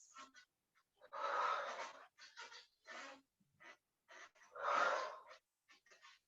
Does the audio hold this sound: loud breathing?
yes